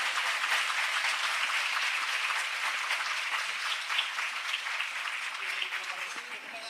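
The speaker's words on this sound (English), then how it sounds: "And once again, a round of applause." Conference audience applauding, dense sustained clapping from a large crowd that stays loud throughout and tapers slightly toward the end.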